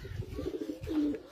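A breeder Teddy flying pigeon gives soft, low cooing close by, a brief murmuring call that swells slightly toward the end, faint against quiet surroundings.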